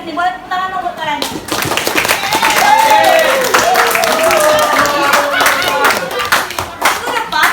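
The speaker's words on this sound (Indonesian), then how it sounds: "Boleh tepuk tangan dong buat kalian." A classroom of students clapping their hands together after finishing a lesson, with bursts of claps mixed with voices and chatter throughout, fairly loud and close.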